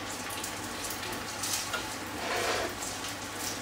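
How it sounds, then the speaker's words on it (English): Black pudding frying in a pan, a steady broadband sizzle with crackling pops running throughout at moderate level, no voices over it. "So we'll go on and fry this for 3 or 4 minutes until it just starts to crisp up a little bit"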